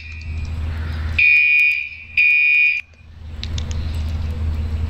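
A Gentex Commander 4 fire alarm inside a Roblox game blares in two loud, sustained electronic horn blasts, each about a second long, separated by a short gap over a low background hum.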